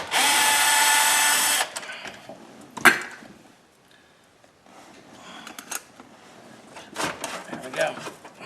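A power drill removes the Phillips-head screws holding the stereo in a 2003 Chevrolet Impala dash. A loud whir lasts about a second and a half, followed by clunks and rattles of handling parts, and a person speaks.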